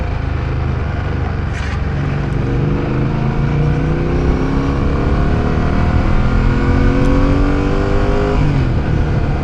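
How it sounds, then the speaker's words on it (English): A Fantic Caballero 700 motorcycle engine pulls hard and loud from close range, its exhaust rising and falling in pitch through gear changes with a deep, unmuted burble. "I think they did a pretty good job with the exhaust as well. It's giving all the right burbles, it's not muted at all."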